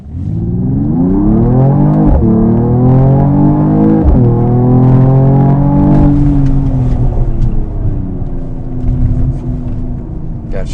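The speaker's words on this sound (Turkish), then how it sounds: "Bir daha alalım 0-100 testi için." Mercedes-AMG GT43 accelerating hard from a standstill in a 0-100 run, loud engine note climbing in pitch through two quick gear changes before settling into a steady high-speed drone.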